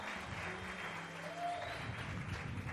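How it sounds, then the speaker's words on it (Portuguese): Applause from a church seminar audience: a short, fairly quiet burst of clapping with faint voices underneath and no clear ending. "Você pode dar uma salva de palmas."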